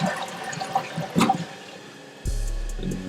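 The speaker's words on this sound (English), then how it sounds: "And you flush." A newly installed toilet in a renovated abandoned three-family house flushes with a brief gurgling rush, then shifts into a steady, fairly quiet hiss of the tank refilling.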